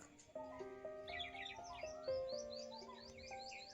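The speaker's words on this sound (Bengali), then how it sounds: "সকাল সকাল এত সুন্দর পাখির ডাক শুনলে মনটা ভালো হয়ে যায়" Several birds chirp and warble in a steady morning chorus, with sustained whistled notes and quick higher tweets overlapping throughout, fairly close and clear.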